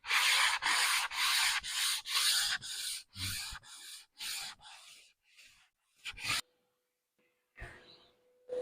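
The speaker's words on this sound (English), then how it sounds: "sand it, final sand in one direction on both sides" Sandpaper on a sanding pad rubs over a sink cutting board in one direction, giving loud, close, evenly spaced scraping strokes that slow and thin out before stopping, with one faint stroke near the end.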